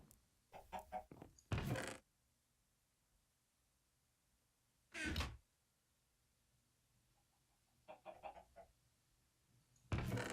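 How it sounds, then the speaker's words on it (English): Chickens in the video game Minecraft, in an FTB Infinity Evolved Skyblock world, give a few short clucks in separate bursts with quiet pauses between them, near and clear, with no talk. "Do chickens only lay on certain things?"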